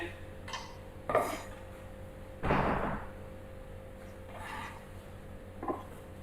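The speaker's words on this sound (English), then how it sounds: "I'm going to just trim these slices a little bit on the side" A kitchen knife trims the sides of food slices during home cooking, making a few scattered, close taps and scrapes: a sharp knock, a longer rasping cut, then lighter clicks, with no talking.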